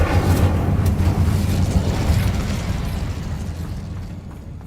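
An Incendio fire spell cast in Hogwarts Legacy, a loud roaring burst of flame with heavy low rumble that holds and then gradually fades out over a few seconds.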